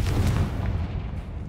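A Confringo blasting spell exploding in the wizarding game Hogwarts Legacy, a single deep, booming blast that rumbles and fades over about a second and a half.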